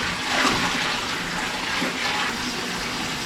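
A bucket of water poured into a tank, stirring up sand, heard as a loud steady gushing splash that swells briefly and continues without talk.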